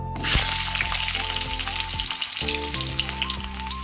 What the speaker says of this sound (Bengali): তো সেই তেলের মধ্যে আলুগুলো কষে নেব যে আলুগুলো কেটে রেখেছিলাম